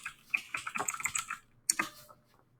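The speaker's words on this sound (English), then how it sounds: "go ahead and type in your username" A username is typed on a computer keyboard in a short run of quiet, close key clicks, with a brief pause and then a couple more taps.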